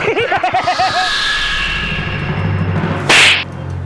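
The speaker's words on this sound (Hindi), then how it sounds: "आप अपने आप को थप्पड़ क्यों मार रहे हैं?" A person slaps their own face in a comedy horror show: one sharp, loud smack cuts in near the end, after a rhythmic stretch of laughing voices and a sustained tone.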